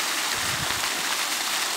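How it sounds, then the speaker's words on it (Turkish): Meltwater from snow running across a highland yayla pasture, a steady trickling stream rushing nearby without pause, no voices over it. "Bakın şırıl şırıl su akıyor."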